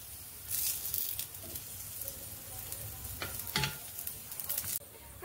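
Tikkis shallow-frying in oil in a pan as they are turned, with a soft steady sizzle and short bursts of louder hissing and scraping, fairly quiet and close, with no voices.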